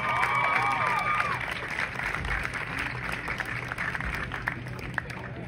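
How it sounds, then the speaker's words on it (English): Applause and cheering from the crowd at a Lady Husky softball senior night honoring a 2025 senior, a sustained wash of clapping with voices mixed in, loud at first and easing slightly, with tonal chatter overhead early on. "How about one more big round of applause for your Lady Husky 2025 senior?"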